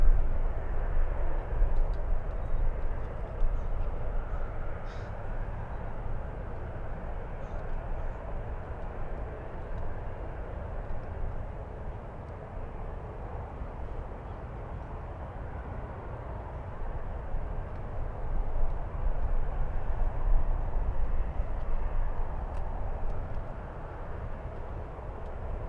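A passenger jet on a flight to LA passes over the SFO area, a broad steady roar that swells and fades slightly over about half a minute, distant and continuous with no talk.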